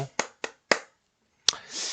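Hand clapping during a live stock-trading broadcast review: three sharp, close claps in quick succession, a pause, then one more clap followed by a soft hiss.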